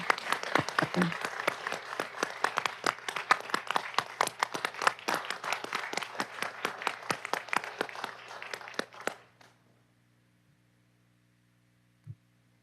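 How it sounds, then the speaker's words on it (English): An audience applauds players, coaches and parents with a few prominent near claps over a steady electrical hum. The clapping fades out at about nine seconds, then the hum continues alone with one faint knock. "let's give a big round of applause to all of the players, the coaches, and the parents that have made all this happen"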